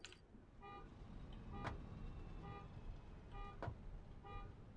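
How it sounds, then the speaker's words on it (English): A car horn honks in short tonal toots, repeating regularly about once a second, faint and distant over a low background rumble. "You guys hear that honking?"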